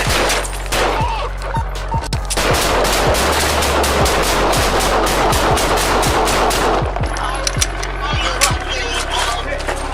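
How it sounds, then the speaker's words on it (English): Rapid, loud gunfire rings out during a police chase, a dense string of sharp shots under a constant noisy backdrop, with voices mixed in. "Shots fired."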